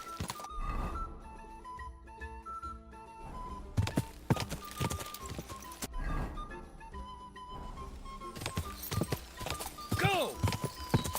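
A horse gallops in Kingdom Come: Deliverance II, with hoofbeats clip-clopping under game music and a neigh near the end, while a voice speaks intermittently.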